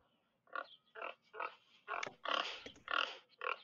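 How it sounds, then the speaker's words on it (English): A pig grunts and snorts in a quick series of about eight rough bursts, close and fairly quiet, used as a sound effect during a Dungeons and Dragons game set in the woods. "Angry swine in the woods."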